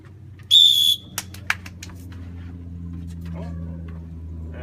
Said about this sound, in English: I've also been working on it with a whistle.